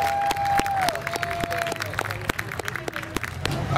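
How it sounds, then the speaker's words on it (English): Festival crowd applauding outdoors at a Strawberry Festival, a dense patter of claps under an announcer's amplified voice that speaks across most of the moment. "One more round of applause for Molly and Lily."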